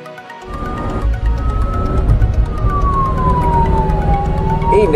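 An ambulance siren wails steadily as the vehicle travels along a lit national highway at night, loud and continuous over engine and road rumble, with no voices.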